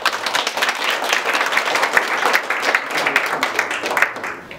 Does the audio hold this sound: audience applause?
yes